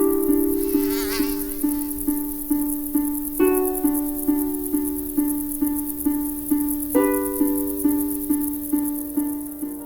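Rhythmic insect-like buzzing, as of an Aedes aegypti mosquito, with a steady pulsing drone repeating about twice per second, close and fairly loud and heard alone with no talk.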